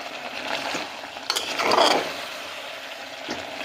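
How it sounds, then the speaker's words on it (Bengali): Spices and mutton are sautéed and stirred in a pan, with a low continuous sizzle, a few scraping and clinking strokes of a spoon against metal, and one louder stirring swell in the middle. "এবার এই সব মশলাগুলোকে আমরা খুব ভালোভাবে কষিয়ে নেব"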